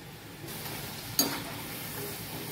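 French fries frying in hot oil, giving a steady, close crackling sizzle with one sharper pop partway through.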